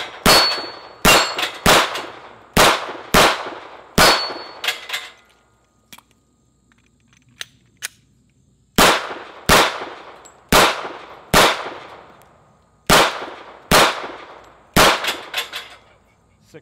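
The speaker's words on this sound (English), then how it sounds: "HK45, gonna run the steel plates, got 20 rounds" HK45 pistol rounds striking steel target plates outdoors: two volleys of sharp, ringing metallic clangs in quick rhythm, about six then seven hits, separated by a quiet pause of a few seconds.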